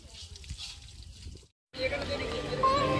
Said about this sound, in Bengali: এখান থেকে মাসি জল নিয়ে নিচ্ছে।